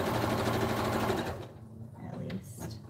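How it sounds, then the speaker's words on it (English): A sewing machine top stitching blankets runs steadily and loudly, its rapid mechanical whir filling the first half before easing off and starting again more quietly. "I want to time it and see how long it takes me to sew, top stitch all the other blankets"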